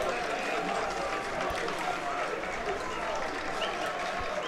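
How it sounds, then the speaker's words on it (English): Barnet supporters give a warm round of applause for a player late in a football match away at Sutton United, a steady wash of clapping and crowd noise sustained throughout. "Ben Coker getting a nice round of applause by the Barnet fans"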